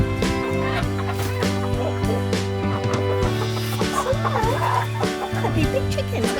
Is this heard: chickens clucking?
yes